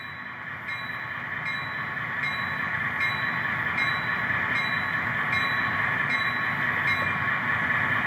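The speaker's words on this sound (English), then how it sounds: "F1 is bell." Bell sound from a Rapido FL9 N scale model locomotive, a steady, regular ding repeating about once a second over a constant electronic engine hum, fairly quiet and close.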